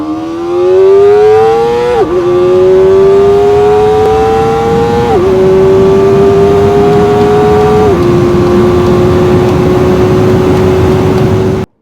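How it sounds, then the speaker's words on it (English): A Kawasaki ZX-4RR four-cylinder sport motorcycle accelerates hard through the gears, a loud, high-pitched engine wail that climbs steadily and dips briefly at each of three upshifts, with no talking. "The quality of the acceleration!"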